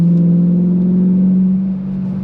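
The V8 engine of a modified 2013 BMW M3 Lime Rock Park Edition hums at a steady low rev, a loud, deep, droning tone heard from close by that eases slightly toward the end, with no voices.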